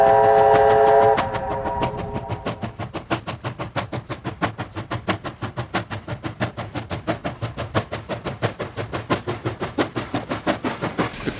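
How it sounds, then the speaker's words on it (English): A steam whistle sounds briefly, then a JS class 2-8-2 steam locomotive hauling a loaded coal train of about 1500 tons chugs with steady, rhythmic exhaust beats that pick up pace, loud and close, at Sandaoling. "A fully loaded train weighs about 1500 tons and is hauled by a JS class"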